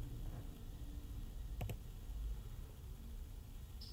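A single sharp computer mouse click stands out once against a quiet, low room hum, with no other activity or voices around it.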